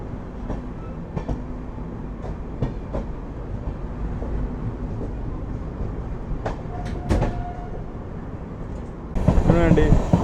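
The Azad Hind Express, running Howrah to Pune, clatters steadily with rhythmic clicks and rumble, while people talk under it and a louder rush builds at the end.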